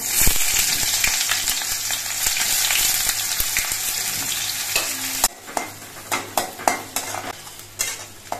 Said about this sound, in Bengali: এবার এর মধ্যে দিয়ে দিচ্ছি কিছু কোচানো পেঁয়াজ।